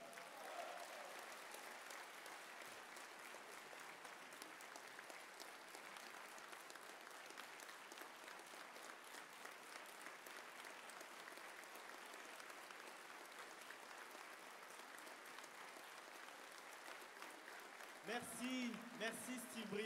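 An audience at a political colloquium in Hénin-Beaumont applauds the deputies with sustained, even clapping that fills the hall for about twenty seconds, and a voice breaks in near the end.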